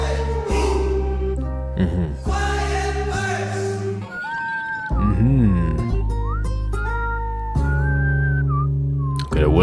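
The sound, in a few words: whistling in a song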